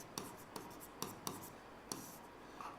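Writing on a board during a maths lesson, with close, quiet, rhythmic tapping and scratching strokes in short bursts at regular intervals.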